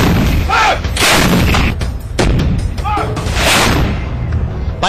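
Loud booming reports from M777 155 mm ultralight howitzers, several broadband blasts spread over five seconds with rumbling decay between them, heard alongside background voices.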